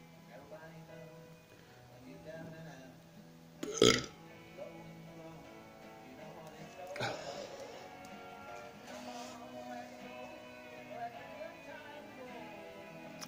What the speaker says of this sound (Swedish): Ja, jag kan rapa när jag röker.